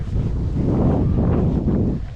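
Strong wind buffets outdoors in nature during a motorcycle outing, a loud, low, continuous rumble of gusts with no voices.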